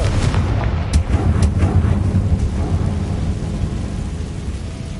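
A Confringo fire spell explodes in Hogwarts Legacy, giving a loud rumbling boom with a few sharp crackling hits in the first seconds that fade into a long, dense roar.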